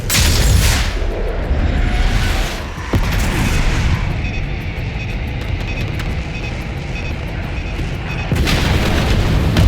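Bombs dropped from the air explode in Call of Duty: Black Ops 6, a loud, continuous rumbling barrage of booms with sharp blasts standing out, heavy low-end roar throughout.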